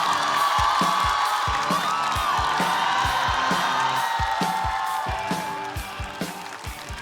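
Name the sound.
audience applause and cheering for a comedian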